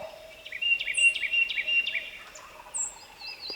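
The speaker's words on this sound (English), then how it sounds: "Pow, bird gobbles." A wild turkey gobbles in the field during a hunt, with rapid rattling gobble calls that sound moderately distant, accompanied by other bird chirps.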